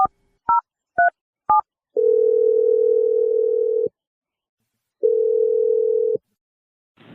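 A phone call to Josh: four short keypad beeps dialed in quick succession, then two long, steady telephone tones separated by a pause, clear and close with no talking.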